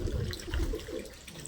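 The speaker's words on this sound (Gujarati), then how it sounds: "અંદર ડુંગળીમાં જો પાણી ચાલુ છે" Water from a well running through an onion field on a village farm, a steady low continuous gush and trickle heard close by, with no talking.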